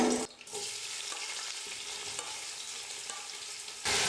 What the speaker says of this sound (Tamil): வெங்காயம் நல்லா ப்ரௌன் கலரில் வர வரைக்கும் நல்லா வதக்கிக்க போகிறேன்